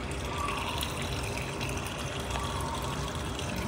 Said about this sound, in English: can you hear the water flowing?